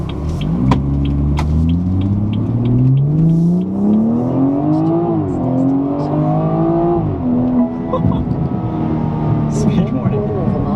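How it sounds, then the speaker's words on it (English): BMW 340i, 2017, with an M exhaust and a performance chip, accelerates hard in sport mode, its engine note rising steadily through the gears with brief shift dips, loud and continuous from inside the cabin. "they said this has a BMW exhaust on it too, an M exhaust. So it does sound really nice."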